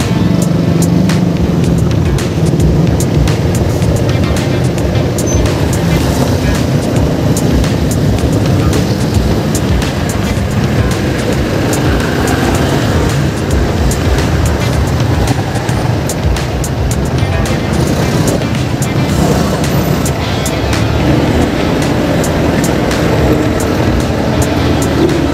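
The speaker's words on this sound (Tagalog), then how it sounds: "Traffic." Steady road traffic with a continuous low rumble of passing vehicles, loud and unbroken throughout, no talking.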